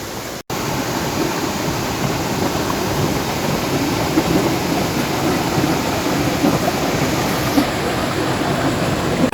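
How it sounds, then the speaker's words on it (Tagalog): Roaring rush of water at Pahangog Twin Falls, a dense steady broadband wash that stays loud and constant, heard close with no voices. "welcome here, Pahangog Twin Falls"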